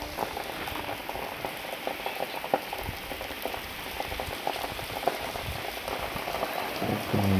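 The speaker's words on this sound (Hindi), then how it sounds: "बारिश हो रही है।" Heavy rain pours down steadily onto surfaces over green farmland where ripe crops are being ruined, a dense, continuous patter with scattered louder drops close by and no talking.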